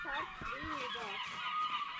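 Swans and other waterbirds honk and call together in a dense flock, the overlapping calls rising and falling continuously, moderately close.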